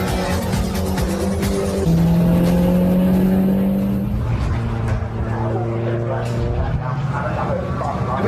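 Mini race cars roar around a circuit, their engines droning and shifting pitch in a steady loud rush, with someone talking over the racing noise throughout.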